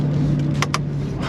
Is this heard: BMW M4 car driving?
yes